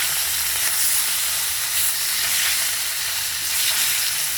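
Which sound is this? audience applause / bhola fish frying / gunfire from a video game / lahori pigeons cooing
bhola fish frying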